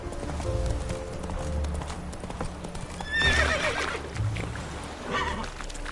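Roach, a horse in a video game, trots with rhythmic hoof clip-clops and gives a clear whinny partway through. A low ambient bed sits underneath.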